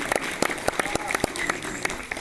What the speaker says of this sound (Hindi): एक बार झूम के तालियां बजाइए साथियों।